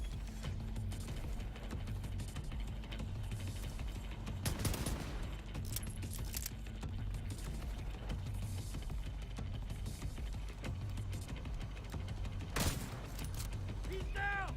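Gunfire from a sniper rifle in the video game The Division 2, with two sharp, loud shots standing out over steady game noise and rumbling low background.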